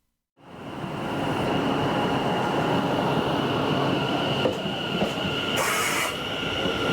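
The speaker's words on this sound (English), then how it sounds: "I'll be looking at the West Midlands Railway Class 730" A West Midlands Railway Class 730 electric train rolls past close by, a steady loud rumble of wheels on rail with a constant whine and brief squeals and clatters.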